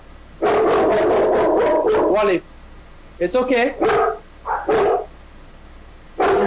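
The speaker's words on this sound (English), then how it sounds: "So the neighbor dog is barking and encouraging as well" Dogs, one of them a neighbor's, bark in repeated loud bursts close by, a rapid run of barks followed by shorter scattered ones, while a person speaks soothingly over them.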